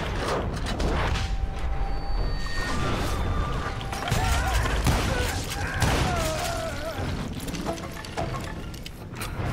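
Dense, continuous gunfire from two guns fired at once in the Western shooter game Call of Juarez Gunslinger, with rapid shots over a loud, busy game soundscape of thuds and clatter and occasional voice underneath.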